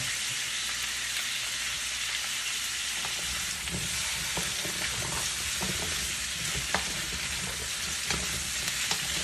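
Squash and green beans sizzle and fry steadily in a hot pan with browned garlic, a loud continuous crackle broken by scraping stirs of a utensil throughout, no voices.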